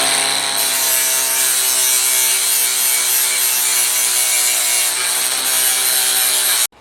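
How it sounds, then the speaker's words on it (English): A flap disc on an angle grinder takes the sharp edges off metal corners during a Camaro transmission install, a loud, continuous, harsh grinding that runs steadily for several seconds and then cuts off abruptly. "We're just going to take the sharp edges off the corners with a flap disc"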